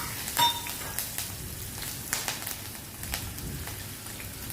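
Mustard seeds crackle and sizzle in hot oil with asafoetida, slit green chillies and curry leaves, sharp popping bursts scattered over a steady frying hiss, close up and with no talking.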